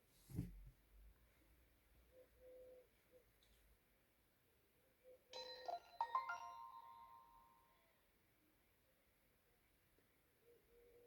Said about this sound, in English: Startup sound was a little choppy